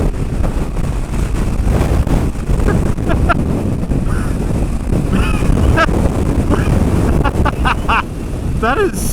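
Strong headwind buffeting a cruiser motorcycle rider at highway speed on a chilly day, a loud continuous roar of rushing air with low rumble throughout, overlaid by a few brief chirping sounds later on.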